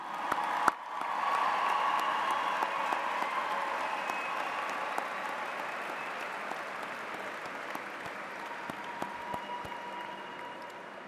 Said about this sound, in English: give a big round of applause to Boston's newest police officers